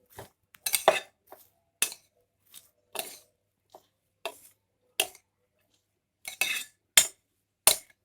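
Salad stirred in a bowl with salt and ground pepper added, giving a series of sharp utensil clinks and scrapes against the dish, spaced irregularly and close by, with no talk.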